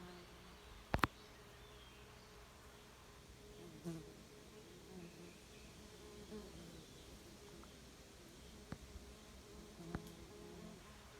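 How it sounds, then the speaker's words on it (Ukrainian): A quiet, steady bee buzz hums in the background near a swarm in a square log hive, with a few soft knocks and clicks scattered throughout. "До мене бджола причепилась."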